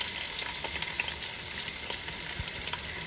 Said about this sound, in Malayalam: അതിലേക്ക് ഒരു 2 ടേബിൾ സ്പൂൺ വെളുത്തുള്ളി അരിഞ്ഞതും അത്രയും തന്നെ ഇഞ്ചിയും നമുക്ക് ചേർത്ത് കൊടുക്കാം.